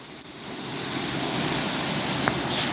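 The waterfall in Falls Park pours with a steady, broad roaring rush that stays loud and unbroken throughout, with no voices over the constant churn of water.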